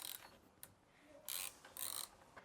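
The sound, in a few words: tightening the catch can mounting nut back down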